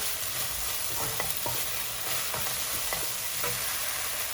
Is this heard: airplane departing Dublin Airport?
no